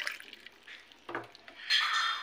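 Water poured into a blender jar over ice for strawberry juice, short splashing and trickling bursts ending in a steadier close pour.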